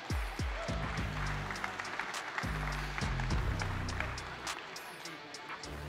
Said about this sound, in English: And a round of applause too for her legendary trainer.